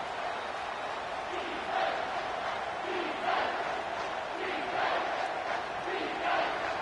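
A home football crowd at a Vols game roars on third down, the loud, dense cheer swelling in repeated surges as the defense tries to get off the field.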